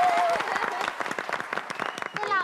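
Studio audience applause on a Taiwanese talk show after a guest eats a fiery chili pepper, bursts of clapping mixed with voices and laughter, a host talking over parts of it.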